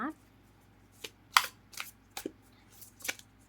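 Oracle cards are shuffled by hand in a few separate bursts of crisp riffling and slapping, close and moderately loud, with quiet pauses between them.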